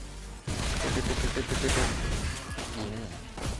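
Granger's rapid gunshots in the Mobile Legends mobile game crack out in a quick burst over busy battle effects, with someone talking over the shooting.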